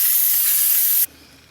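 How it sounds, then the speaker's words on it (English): Brake cleaner sprays in one loud, continuous hissing burst onto the rear brakes of a 2007–2012 Nissan Altima, then cuts off abruptly, leaving quiet. "use some brake clean, spray everything down"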